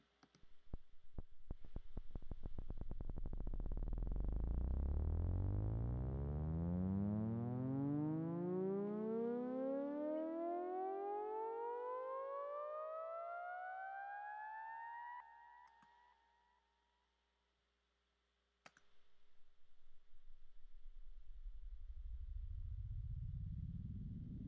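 An electronic music riser sweep effect: a long synthesized tone glides steadily upward in pitch for about fifteen seconds, cuts to near silence, then a fresh low rising sweep begins.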